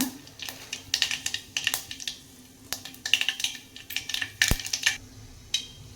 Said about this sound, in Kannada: ಈಗ ನಾನೊಂದು ಕಾಲು ಸ್ಪೂನಷ್ಟು ಜೀರಿಗೆ ಸಾಸಿವೆ ಹಾಕೀನಿ ಇದು ಸ್ವಲ್ಪ ಚಟಪಟ ಅಂದ್ಲಿ